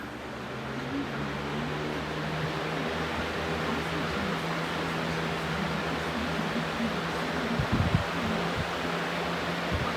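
An electric fan runs at full power with a steady broad whoosh of moving air and a low motor hum, constant and close, with a brief knock of handling near the end.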